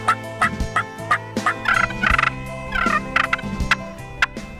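Repeated American wild turkey gobbles in Tennessee, loud and close, rattling calls in quick bursts with short pauses between them, no voices present.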